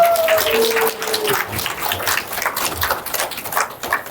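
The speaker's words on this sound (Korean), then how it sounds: "박수 한번 부탁드립니다" A church gathering's audience gives a round of applause as a talk session begins, moderate clapping from a small group that sounds fairly close and continues evenly, with no voices over it.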